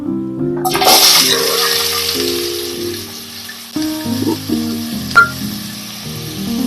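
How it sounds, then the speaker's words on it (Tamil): Three large finely chopped onions hit hot oil for a gravy, bursting into a loud close sizzle that stays steady, with occasional stirring scrapes and clinks. "அது கூட 3 பெரிய சைஸ் வெங்காயத்தை பொடிசா கட் பண்ணி வச்சிருக்கேன், அதையும் சேர்த்துக்குவோம்."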